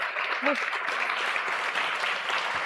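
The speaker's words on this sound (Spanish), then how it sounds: "Un aplauso para ellas, por favor." An audience at a humanitarian aid panel applauds the guests, giving an even, continuous wash of clapping at moderate level, with a brief voice near the start.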